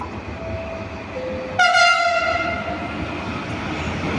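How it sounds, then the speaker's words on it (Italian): A Trenitalia Intercity train at Padova station sounds its horn, a loud multi-tone blast with rich harmonics lasting about a second, then fading over steady station ambience. "594 di Trenitalia delle ore 15:50 per Roma Termini è in partenza in ritardo dal binario 1"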